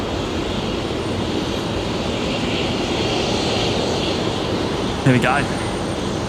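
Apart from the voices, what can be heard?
aircraft on the runway at Brisbane Airport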